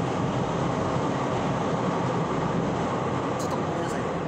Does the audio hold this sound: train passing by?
yes